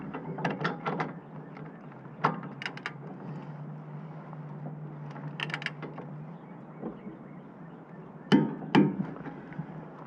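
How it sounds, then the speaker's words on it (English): A ratchet wrench with a 24mm socket clicks while tightening a bolt, giving short bursts of sharp ratcheting clicks repeated several times over a steady low background hum, close and clear. "When you hear the click, that's when you need to stop. Once again, this is a 24mm socket."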